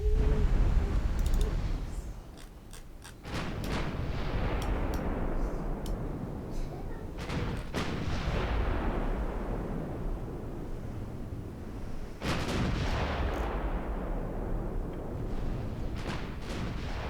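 In Ultimate Admiral Dreadnoughts, naval guns fire from ships, including transports carrying 4-inch, 3-inch and small 1.4-inch guns. Several heavy booms come at intervals over a constant low rumble, and a voice talks over them.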